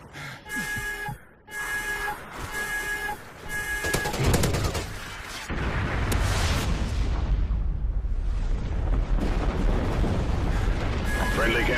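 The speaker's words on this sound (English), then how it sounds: "Friendly chem strike incoming." Call of Duty Ghosts multiplayer gameplay with a chem strike, where beeping alert tones give way to a sustained, roaring explosive blast and rumbling gunfire that fill the rest of the scene loudly.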